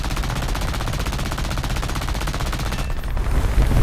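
Rapid sustained machine-gun fire from an I-15bis biplane fighter during an air arcade battle in War Thunder, loud and continuous with dense repeating bursts, breaking off near the end into engine roar.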